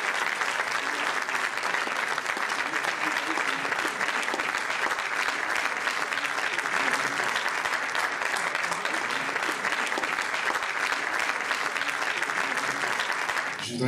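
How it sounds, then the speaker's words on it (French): Sustained, dense audience applause for Thierry Marx, judoka and chef, at a live event, holding evenly loud for about fourteen seconds before fading slightly at the very end, with no voices on top. "je vous prie d'applaudir bien fort"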